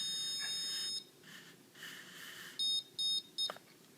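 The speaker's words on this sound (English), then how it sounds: "whenever it gets to a stud, that's that mark, it beeps" A stud finder sliding over a wall gives a few short electronic beeps, first a steady tone, then three quick separate bleeps close to the microphone, with no talking.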